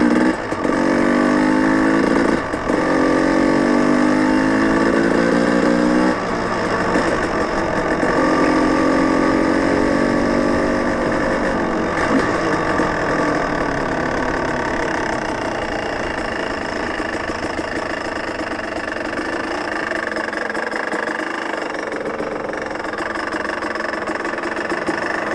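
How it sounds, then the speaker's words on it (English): Motorcycle engine idling while warming up on a cold day: a steady, close mechanical hum with a brief rise and fall in revs early on, then settling into an even idle under wind noise. "Let the bike warm up."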